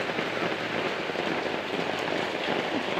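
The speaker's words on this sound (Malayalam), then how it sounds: "നല്ല കാറ്റും നല്ല മഴയും" Heavy rain pours steadily onto surfaces nearby, a dense, even wash of drops with a constant hiss and no pauses.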